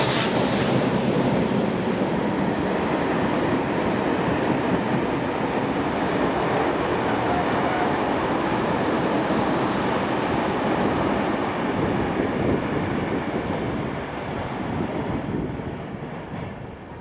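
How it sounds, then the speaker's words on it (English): Locomotive 3642 hauls a heritage train past Mortdale, a continuous loud rumble and roar of the passing train with rolling wheel noise that stays steady before easing off at the end. "3642 is now seen leading the train forward on its second trip to Loftus"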